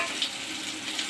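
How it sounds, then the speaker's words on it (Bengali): Onion and garlic fry in oil, a brief close sizzling hiss with a couple of small pops. "এই পেঁয়াজ রসুন আবার তেলে দিলাম"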